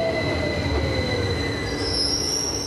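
A train moving through St Pancras International railway station, its wheels giving a loud, sustained high-pitched squeal over a constant rumbling roar, with no voices.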